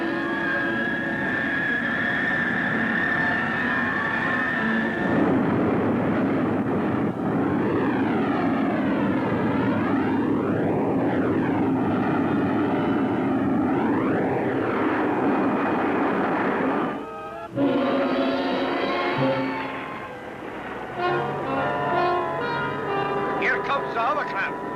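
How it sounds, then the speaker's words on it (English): A hovercraft approaching a ship at sea, its loud, steady engine and propeller drone swelling with wavering tones as it nears, continuous for most of the span, with brief talk near the end. "Here comes the hovercraft."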